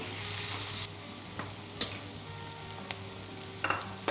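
Spices and salt being stirred into onions frying in a pan, a quiet, steady sizzle broken by several sharp spoon clinks and scrapes against the pan, with no talking.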